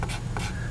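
A pen or marker writes out a math function, giving short scratchy strokes in a quick uneven rhythm that sound close and quiet.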